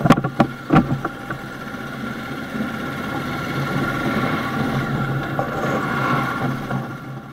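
Motorcycle towing a trailer pulling away on a hill start, with a steady mid-pitched engine drone and rumble after a few sharp knocks at the start, heard close with no talking.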